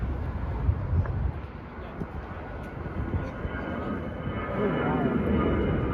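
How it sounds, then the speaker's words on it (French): A distant airplane drones overhead at a car spotting outing in Montpellier, its low engine roar steady and swelling slightly toward the end, with someone talking over it. "Il y a un avion qui passe, j'espère que vous allez m'entendre"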